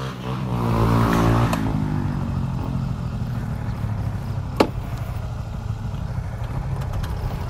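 Suzuki Burgman Street EX scooter engine revs up and then settles into a steady idle, loud and close, with a single sharp click partway through and no talk.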